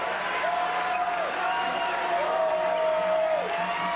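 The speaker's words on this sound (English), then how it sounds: "Crowd comes to life a little bit." Basketball arena crowd at a 1986 NCAA Tournament second-round game between UNC and UAB, a steady broad roar of cheering and murmur with a sustained tonal whistle or horn over it, no clear speech.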